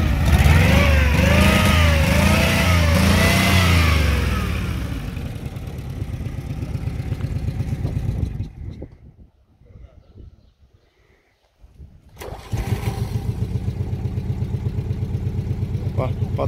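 Old smoking car engine with exhaust routed to one side, running at a loud rough idle with rising revs and clatter, then fading almost to silence as it stalls before picking up again nearby; people talk over it.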